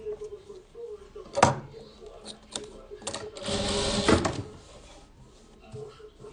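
Sewing machine stitching a 3D mosaic patchwork quilt made from 24 by 24 centimetre squares, running in a few short bursts and one steady run of about a second, with someone speaking quietly in between.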